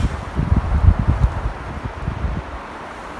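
Wind gusting around a Polish military lavvu tent during a winter windstorm, a low rumbling roar with uneven buffets that swell and ease, steady and fairly close.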